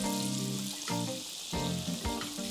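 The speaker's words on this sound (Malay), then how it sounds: "Kalau keluar buih-buih halus tu, maksudnya minyak dah panas" Hot oil for anchovy fritters fizzes and bubbles steadily around the tip of a wooden spoon or chopsticks dipped into the pan, a close, continuous sizzle with no talking.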